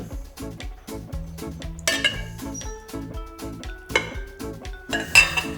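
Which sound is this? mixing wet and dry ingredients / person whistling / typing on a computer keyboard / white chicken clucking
mixing wet and dry ingredients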